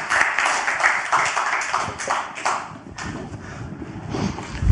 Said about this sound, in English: Give Jonathan a round of applause